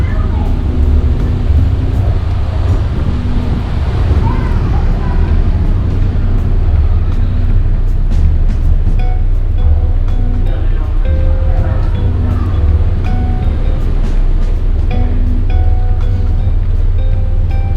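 Steady low engine rumble and droning hum fill the whole stretch aboard a ferry boat at the Canal Street Ferry Terminal in New Orleans, with faint clatter and scattered background noises.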